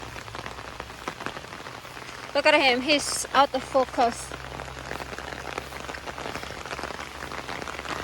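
Steady rain falls outdoors in a continuous soft hiss of drops on surfaces, with a person speaking briefly over it partway through.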